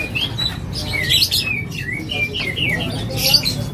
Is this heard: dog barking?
no